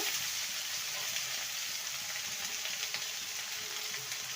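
Drumstick and other vegetables frying in a pan with turmeric and salt for a curry, a steady soft sizzle running continuously and fairly quietly with no talk.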